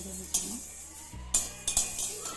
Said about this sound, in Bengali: তো মুগের ডালটাকে আগে ভালো করে ভেজে নেব, শুকনো খোলায় ভেজে নিতে হবে।